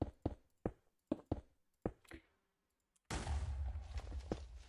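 An explosion goes off in the modded Minecraft game GregTech New Horizons. A run of sharp, separate clicks and taps comes first, then a brief quiet, then a loud, sustained, roaring blast that fills the end of the clip.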